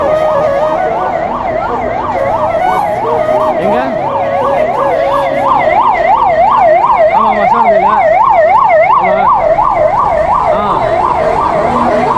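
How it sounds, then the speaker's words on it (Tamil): An ambulance siren wails in a rapid rising and falling pattern, loud and close, along a crowded pilgrimage path at the Thiruvannamalai Maha Deepam festival, with traffic and crowd murmur beneath. "ஆம்புலன்ஸ் அடிக்கடிக்கு வந்து தான் இருக்குது"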